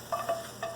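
Vegetables sauté in broth without oil, giving a soft, close sizzle with a few gentle stirring strokes over a steady background hiss.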